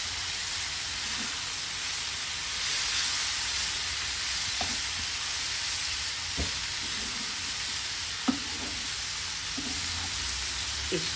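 Coriander leaves stirred and warmed in a pan for moringa chutney, giving a steady loud sizzling hiss with a few soft scraping stirs throughout and no talk.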